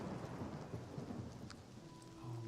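A thunder and lightning storm in a video game rolls on with a steady wash of rain and low thunder rumble, faint and continuous, with a brief sharp crackle near the middle.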